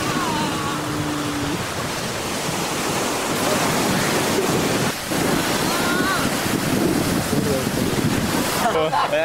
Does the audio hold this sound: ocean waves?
yes